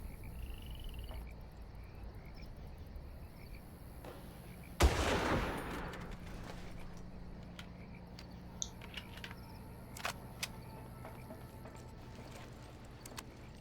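A single loud gunshot from a Far Cry firefight rings out near the middle, its sharp crack trailing into a brief decay over a steady outdoor ambience of frog croaks and insects, with a few faint clicks afterward.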